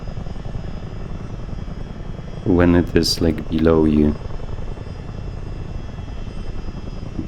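Steady low rotor-and-turbine drone of a large Miltech CH-47 Chinook tandem-rotor military helicopter in Microsoft Flight Simulator, constant throughout with someone talking briefly over it midway.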